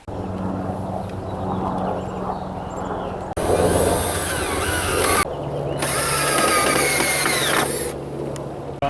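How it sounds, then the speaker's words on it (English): A power drill drives deck screws into pre-drilled pilot holes, whirring loudly in two long close bursts with a steady motor drone between them. "These are pre-drilled pilot holes, and I'm going to be screwing in the deck screws."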